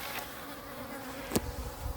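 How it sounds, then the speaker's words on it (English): Honeybee drones fly around a hive in autumn, giving a faint steady buzzing drone with one brief nearer pass of a bee. "Most of these bees that are flying right now are drones."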